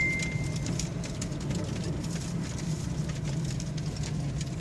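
A Cadillac Northstar engine with a severe misfire idles roughly in the open, a steady low chugging rumble heard from outside the car, constant and moderately loud with no one speaking.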